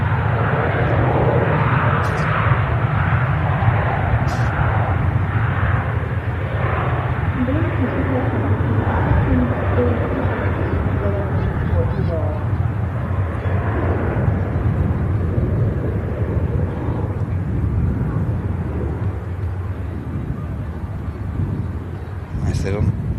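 A jet airliner's engines roar steadily at Manchester Airport, a loud, sustained rumbling drone that fades slightly toward the end, with someone talking over it.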